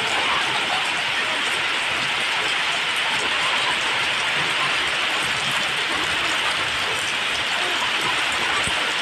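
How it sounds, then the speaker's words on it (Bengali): Heavy rain pours steadily outside a window during a strong gusty storm, a dense continuous hiss that stays loud and even throughout with no voices. "অনেক জোরে জোরে বৃষ্টি হচ্ছে এখন"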